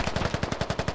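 Rapid automatic gunfire in the video game Squad, about a dozen evenly spaced shots in one short burst, close and loud.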